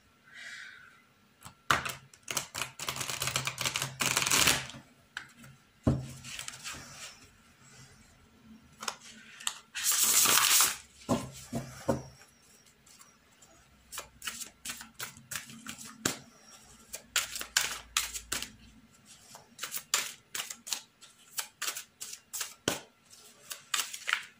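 A deck of Gaïa dream tarot cards is handled and shuffled, with scattered close card flicks and taps broken by two longer riffling bursts, and quiet gaps between them.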